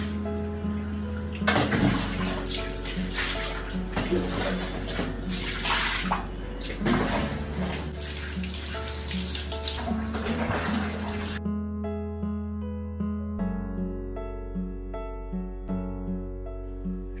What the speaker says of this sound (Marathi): पुन्हा एकदा साध्या पाण्याने स्टूल, फ्लोरिंग सगळं स्वच्छ धुवून घेते